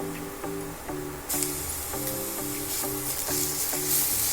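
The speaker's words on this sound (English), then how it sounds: "We'll saute it till it's nice golden brown." Ginger garlic paste and onion sizzle in a hot pan while being stirred, a loud steady frying hiss broken by rhythmic scraping strokes, with a burst of sharper sizzle partway through and no talking.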